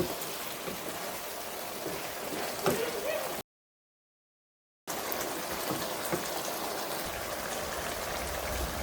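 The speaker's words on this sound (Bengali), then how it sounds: "অল্প পানি দিব, বেশি পানি দিব না" Water poured into a pan of fish curry with potatoes, a steady close rushing gush that halts briefly and then resumes, with no voices.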